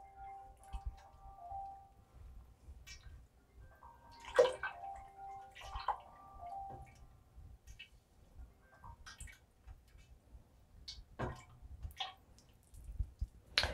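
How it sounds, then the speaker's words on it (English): Water added to a nearly empty honey jar to rinse out the remaining honey while making elderflower mead, heard as scattered, irregular splashes and drips, close and fairly quiet, with no talking. "we're going to add a little bit of that water to loosen up that the rest of that honey and get it all out of the jar"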